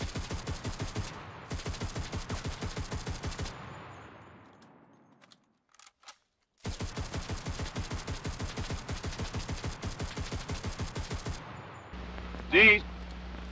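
Rapid automatic fire from a German 9mm Schmeisser machine pistol and a .45 Thompson submachine gun, long even bursts of sharp reports, loud and close, split by a pause of near silence and a brief late thud.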